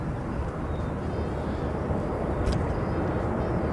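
A Dash 8 turboprop departing Christchurch for Nelson, heard as a steady, broad engine roar that holds level throughout, fairly close and continuous with no talk over it.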